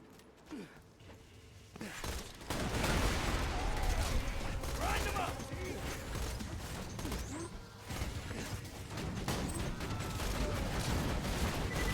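Turret gunfire in the video game Borderlands, a dense, continuous fusillade of shots with mechanical clatter sustained over most of the stretch, loud and busy, with game sounds mixed in.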